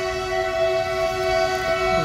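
A train passing nearby with a steady, loud, sustained tonal horn or whistle over a constant rumble, continuous throughout with no talking.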